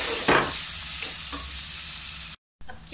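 Chicken browns in a pan over a low flame for a pasta dish, giving a steady close sizzle with a few scraping stirs. The sound drops out briefly, then the frying resumes.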